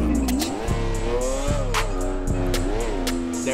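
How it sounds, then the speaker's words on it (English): McLaren F1 car engine in a video game, loud and close, revving high and shifting through gears with repeated rising whines and brief dips between shifts. "That real McLaren F1 sound in that bit, that real engine."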